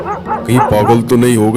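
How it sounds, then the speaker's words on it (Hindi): Dogs barking and yipping in quick bursts, loud and close, in a Hindi ghost story, with a voice speaking over and between the barks. "अरे ये कुत्ते इतना क्यों भौंक रहे हैं?"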